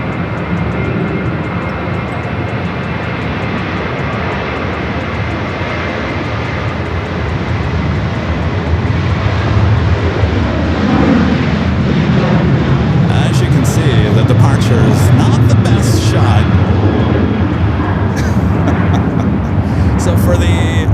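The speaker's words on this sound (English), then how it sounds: "we got a departure rolling down to 24 left" A departing airliner rolls down runway 24 Left at LAX, a loud, steady broadband jet roar that swells in the second half as the takeoff run builds.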